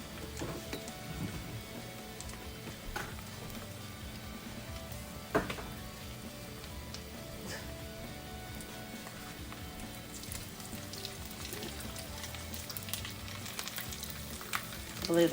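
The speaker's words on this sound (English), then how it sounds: "You just want to continue to let that cook. You just want it crispy before you start to turn it." Pinto bean patties fry in grease in a pan with a steady, close sizzle and occasional pops and scrapes, no voices.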